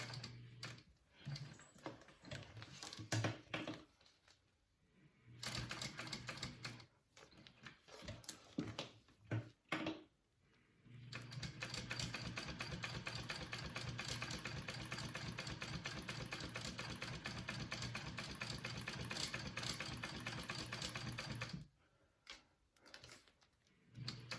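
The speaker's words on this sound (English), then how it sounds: "I'm stitching at an 8-inch seam allowance." A sewing machine stitches a backpack seam in steady mechanical runs, the motor humming and needle ticking rhythmically in several bursts separated by brief pauses, with one long continuous run in the middle.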